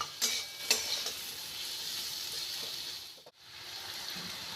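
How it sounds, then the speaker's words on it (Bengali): Potatoes and spices sauté in oil for a Bengali fig curry, producing a steady, moderate sizzle with a few spatula taps early on and a brief dip partway through. "খুব সুন্দর করে কিন্তু এটা কষিয়ে নিতে হবে যতক্ষণ না কিন্তু কাঁচা গন্ধটা যাচ্ছে"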